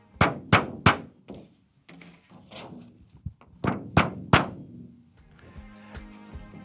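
A snare drum fitted with an Evans drumhead is struck in a series of sharp, close hits. Some strikes come singly and some in quick pairs, each ringing out briefly before a softer textured roll at the end.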